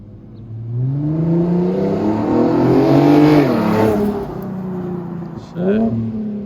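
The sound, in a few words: Infiniti G37s engine revving through exhaust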